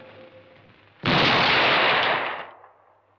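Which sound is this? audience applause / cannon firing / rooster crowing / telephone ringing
cannon firing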